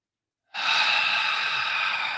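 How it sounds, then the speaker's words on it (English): During breathwork practice, a person takes one deep breath in through the nose. The close, airy inhale starts abruptly after a short silence and holds steady for about a second and a half. "Breathing in through the nose."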